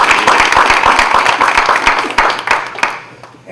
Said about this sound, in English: So I want to take a moment just to applaud them.